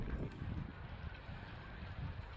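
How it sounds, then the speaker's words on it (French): Steady rumbling wind rising before a storm in Isère, France, with low gusty buffeting, a continuous broad roar that swells and eases slightly, no voices. "C'est le bruit du vent qu'on entend qui arrive du fond."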